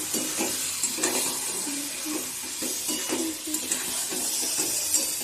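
Bombay duck fish cooks in a pan with a steady, close sizzle, broken by a few soft clinks of a utensil against the pan.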